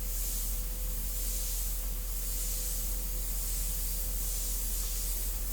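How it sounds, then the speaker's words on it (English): An airbrush sprays India ink onto paper in a continuous, even hiss that runs steadily without pause, close and moderately quiet. "Making sure the airbrush is working fine, feels good."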